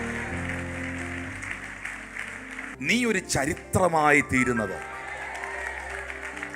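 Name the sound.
congregation clapping hands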